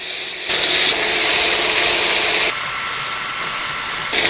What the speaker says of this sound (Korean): 자 볶아 보겠습니다